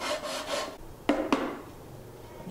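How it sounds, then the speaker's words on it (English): A sanding block smooths a Baltic birch speaker panel in a few broad, close rasping strokes, followed by two sharp knocks and then quieter rubbing. "I then use a block sand to really dial things in nice and flush."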